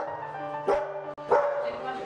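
Lurcher dogs kept in an enclosed courtyard let out two sharp barks, close and clear over a steady background hum, with a voice talking.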